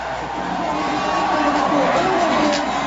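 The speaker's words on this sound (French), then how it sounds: "on écoute les réactions de la foule" Crowd in Tulle, Corrèze, reacting to François Hollande's election as French president, a dense, steady roar of many voices with cheers and shouts rising slightly toward the end, continuous and fairly loud.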